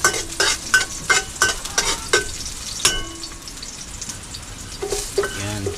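Onion going into a frying pan with chilies, loud close rhythmic spatula knocks and scrapes against the pan over a low sizzle, pausing midway before a few more stirs.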